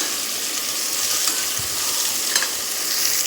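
Onions frying in oil for mushroom biryani give off a steady, dense hiss that holds evenly throughout, close and moderately loud, with a faint scrape or two.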